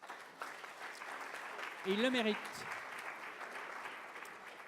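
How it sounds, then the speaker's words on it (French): Audience applause at an awards ceremony, steady clapping under someone speaking into a microphone, moderately loud in a hall. "On les applaudit tous les 4."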